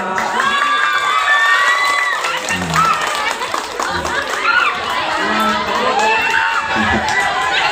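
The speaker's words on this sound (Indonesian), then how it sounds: "boleh tepuk tangan buat Mr. Ahong Sepotong" A lively stage-show audience cheers, shouts and claps for a performer, a loud, continuous crowd roar with children's high shouts and scattered clapping, amplified voices mixing in throughout.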